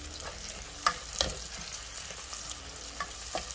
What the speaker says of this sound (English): So, so just let the mushrooms cook into the onions now. Give it a stir from time to time,